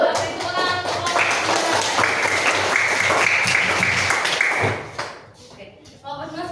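A fourth-grade primary school classroom applauding a student group during a maths lesson: brisk clapping from many children, loud and close, with a ringing tone over it, fading out near the end before voices resume.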